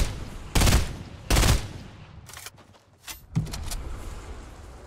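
Gunfire bursts in a Fortnite Battle Royale match, with two loud close volleys early followed by quieter, more distant shots and a final burst, separated by short gaps of near quiet.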